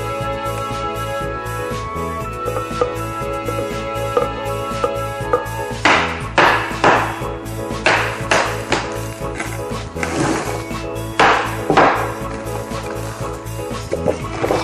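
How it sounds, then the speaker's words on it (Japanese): A hammer strikes a cup-shaped ceramic flower pot holding an old potted plant, giving a run of sharp, close knocks and cracks over steady background music. "仕方ないのでこのハンマーで割ることにします。"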